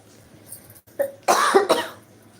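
A few short, close coughs sound in quick succession, the last ones louder and harsher, from a person with a cough and cold in an indoor setting.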